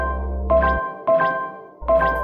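A bell-like notification chime rings three times, clean bright tones spaced under a second apart, each with a short decaying tail over a low hum.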